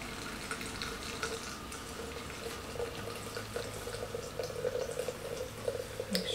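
Hot water at 180 degrees pours steadily onto rose petals to make tea, a soft continuous splashing trickle at close range.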